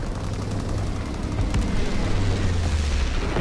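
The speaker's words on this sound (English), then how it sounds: "Dropping incendiary." Incendiary bombs from a low-altitude bomber run burst in Call of Duty WWII online Hardpoint, a dense, loud rolling wall of booms and rumbling blasts with no pause.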